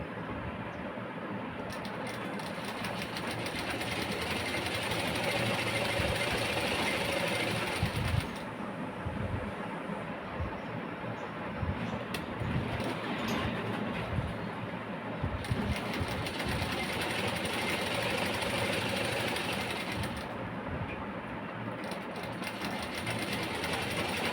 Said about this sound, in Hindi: फिर से इसके ऊपर एक सिलाई चला देंगे।